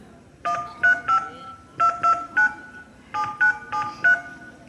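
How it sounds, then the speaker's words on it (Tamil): A telephone keypad beeps out a number as a quick series of about twelve DTMF tones, close and clear, grouped in two runs with a short break between them. "சரி அத்தைக்கு ஃபோன் அடிக்கலாம்."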